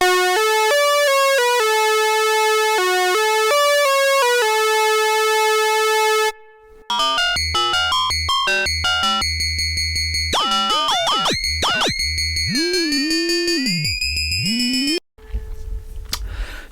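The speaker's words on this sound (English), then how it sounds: "we've got this fantastic spring reverb on here. So here is how the main riff for the song goes." A Korg 700FS prototype synthesizer plays a main riff through spring reverb: repeated sustained tonal notes, then quicker bleeping notes, swooping pitch bends and a metallic reverb splash, loud and alone.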